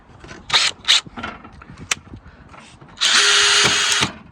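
A cordless drill driving 60mm screws into a campervan bench seat: a few short whirring bursts and taps, then a sustained loud, close whine of about a second as a screw is run in.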